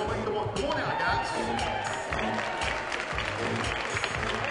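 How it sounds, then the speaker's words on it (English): An audience at a bridal show applauds and cheers the gentlemen, dense clapping with crowd noise and voices mixed in, steady throughout. "Give them a nice round of applause."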